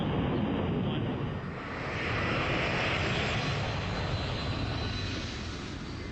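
A Lockheed C-5 military transport's turbofan jet engines roar at full takeoff thrust, a loud, steady, broadband rushing drone that swells slightly and holds without a break.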